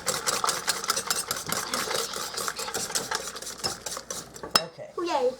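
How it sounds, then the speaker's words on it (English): Pumpkin muffin batter being stirred briskly in a bowl, a steady run of wet scraping strokes with utensil clinks against the side, ending in a sharp knock and a brief squeaky rustle. "Let me get that stirred up"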